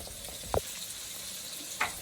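Chopped onion sautéing in rendered pork salt grease for charro beans, a steady low hiss of frying with two brief louder spatters or stirring clicks.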